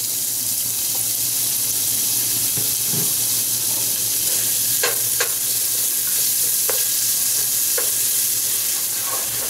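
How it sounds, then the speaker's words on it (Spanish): Chopped onion frying in hot vegetable oil for chana masala, a loud, dense hiss of sizzling with a few sharp utensil taps, close up and with no speech. "Ya el aceite calentó, entonces echamos la cebolla"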